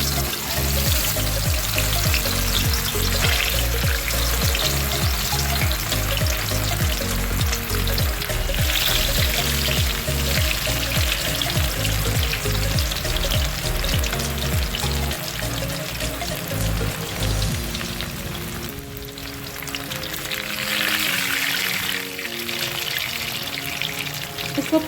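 Rohu fish pieces frying in hot oil give a loud, steady sizzle and crackle that carries on unbroken, close up and with no talking.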